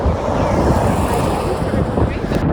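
Wind buffets the microphone in a constant low roar, gusting throughout, during a road walk in southern Virginia.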